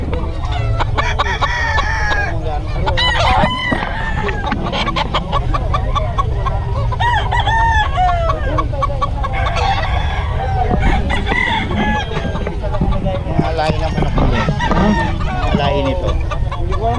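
Several gamecock roosters crow repeatedly over a dense, noisy background of clucking fowl, with overlapping calls throughout.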